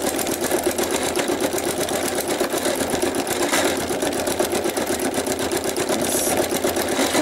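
A sewing machine stitches fabric in a steady, fast mechanical whir with a rhythmic needle chatter, loud and close, running without pause and with no speech.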